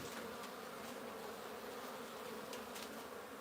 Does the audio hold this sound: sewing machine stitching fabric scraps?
no